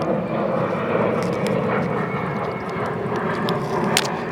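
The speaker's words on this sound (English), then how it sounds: "Sorry about the plane overhead," A propeller airplane passes overhead outdoors, its engine making a steady, fairly loud drone that holds through the whole stretch with no talk over it.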